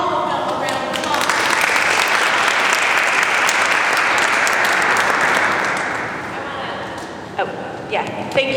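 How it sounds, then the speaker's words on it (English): Audience applause at a Q&A session, swelling into a loud, steady wash of clapping from a large crowd that holds for several seconds, then thins out to scattered claps and a few voices near the end. "Let's give all of them a round of applause."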